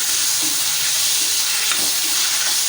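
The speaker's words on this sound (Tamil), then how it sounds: "தக்காளி வந்து அந்த எண்ணெயிலே வந்து ஒரு ஒரு நிமிஷத்துக்கு நல்லா வதங்கி வரட்டும் அப்படியே மிக்ஸ் பண்ணி விட்டுக்கோங்க" Chopped tomatoes fry in hot oil, making a loud continuous close sizzle and hiss with faint stirring taps underneath and no talking.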